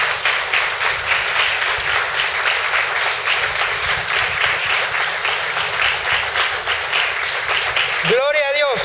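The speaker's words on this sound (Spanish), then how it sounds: "Dele palmas fuertes al Señor." Church congregation clapping loudly and steadily in a sustained burst of applause, dense and close, with a voice calling out over it near the end.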